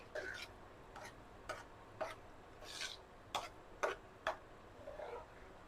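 Mashed vegetables for Mumbai-style butter pav bhaji stirred in a pan, heard as soft, separate scraping strokes roughly every half second, close but faint and with no talk.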